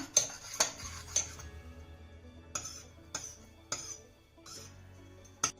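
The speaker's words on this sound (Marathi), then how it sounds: "आता ही डाळ ना आपल्याला चांगली घोटून घ्यायची आहे." Cooked dal is worked in a pressure cooker pot with a metal utensil, giving a series of separate sharp metallic clinks and scrapes at uneven intervals, close and fairly quiet, with no talking.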